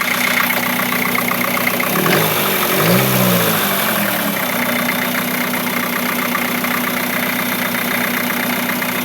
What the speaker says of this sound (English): This is how it runs, and this is how it sounds.